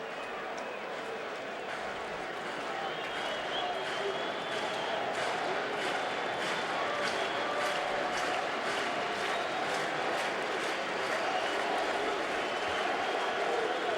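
Crowd at a Phillies home playoff baseball game against Cincinnati, a steady, dense roar of cheering and yelling filling the whole stretch at an even, loud level with no letup.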